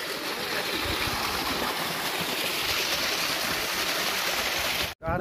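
Water pouring down into a deep hole, a continuous rushing, gurgling flow, close and steady, ending in a sudden cut.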